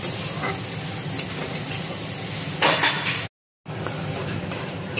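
Spice masala of tomato, salt, turmeric, cumin and coriander powder frying in a pan for prawn curry gives a steady, close sizzle and hiss, briefly louder near the end before a short gap of silence.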